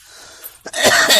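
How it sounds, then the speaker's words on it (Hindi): A person gives a single harsh cough, loud and close, after a quieter stretch of low background noise. "खांसी"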